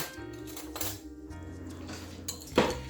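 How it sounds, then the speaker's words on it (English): A spoon stirs a garlic powder mixture in a bowl, with soft scraping over a low steady hum and a few light clinks of metal on the bowl, the sharpest one near the end. "And I just stir it up."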